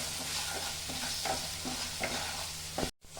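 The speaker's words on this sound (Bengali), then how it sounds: "অল্প জল দিয়ে একটু ভালো করে ভেজে নেব।" Ground coriander, cumin and Kashmiri chilli powder fry with a splash of water for white paneer, a close, steady sizzle punctuated by regular stirring strokes, ending in a brief dropout.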